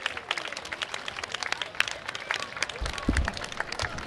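A crowd applauds a yosakoi dance team at the Kasukabe Wisteria Festival, steady dense clapping from many hands at moderate distance, continuing evenly throughout.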